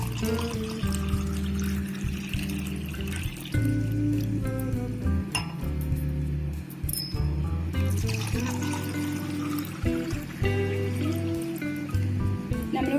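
Amla (gooseberry) juice poured into two glasses, a continuous liquid stream with glassy clinks along the way, close and fairly loud, with a few muffled background sounds.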